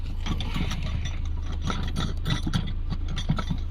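A ratchet or similar hand tool clicks steadily while tightening a part on a Ford Fiesta, fairly quiet and close, with a low mechanical hum running underneath throughout.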